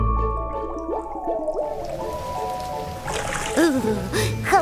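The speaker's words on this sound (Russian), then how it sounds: "Да, такого дождя еще не было." In an animated children's cartoon, rain falls and water drips and splashes in loud, wet patters, with a musical tone at the start giving way to denser sloshing.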